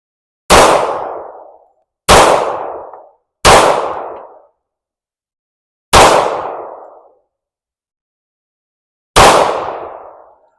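Five loud, sharp shots from a TISAS Carry .45 ACP pistol on a shooting range ring out at uneven intervals, each followed by a short decaying echo, with silence between them.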